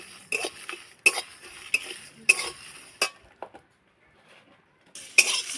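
A spoon scrapes and stirs whole coriander seeds, cumin and dried chillies dry-roasting in a pan for tamarind pickle, in close, sharp bursts of strokes separated by short pauses, with no talking.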